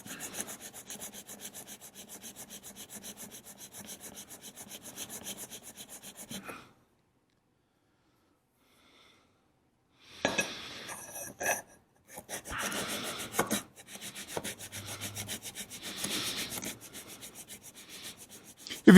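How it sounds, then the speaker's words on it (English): Fine stone rubbed back and forth over crankshaft bearing surfaces during an engine build, a steady close scraping rasp, then a pause of silence before shorter, irregular strokes resume. "I got a fine stone here too. We'll just polish the surfaces up."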